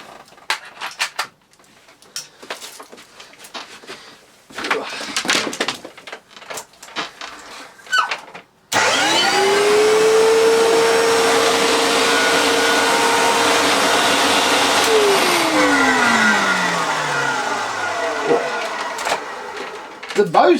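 An old Hitachi Powerhouse CV770D retro upright vacuum cleaner switches on abruptly and runs with a loud, steady roar, its motor pitch rising as it spins up, then sliding down near the end, with a person talking over it.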